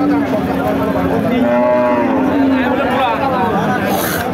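At a busy cattle market, a cow with her calf lets out a long, loud moo close by, with crowd chatter and voices murmuring underneath.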